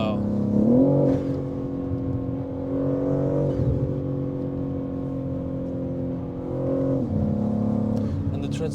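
A 650 HP BMW M3 Touring Manhart MH3 650 accelerating hard on the Autobahn, with a steady, loud engine drone that rises and shifts through gears at about 1 s, 3.5 s and 7 s, heard from inside the cabin.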